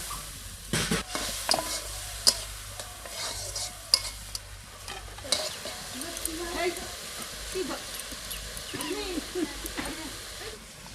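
Spices fry in a pan with a splash of water added, giving a soft steady sizzle under repeated scraping stirs of a spoon, close and quiet, while someone talks over it.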